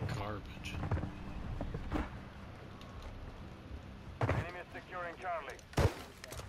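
Gunfire bursts from a three-round burst weapon in Call of Duty Modern Warfare 3 crack out as a few sharp, loud reports spaced across the clip over steady game background noise, with a person talking throughout.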